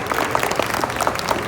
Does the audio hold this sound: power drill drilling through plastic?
no